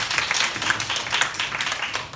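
Applause from a congregation at a Sunday high-school worship service in a church, a steady dense patter of clapping lasting the whole moment at moderate, fairly distant loudness.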